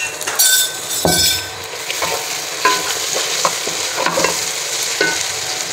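Ginger garlic paste hits browned onions in a hot pan, giving a close, steady frying sizzle with repeated stirring scrapes and clinks of a spoon against the pot.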